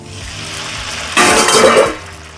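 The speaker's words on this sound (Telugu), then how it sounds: "ఇందులో మనం బ్యాటర్ వేసుకుంటున్నాం" Sweet appam batter hits hot oil in a pan, setting off a sudden loud sizzle that flares for about a second, then settles into a softer steady crackle.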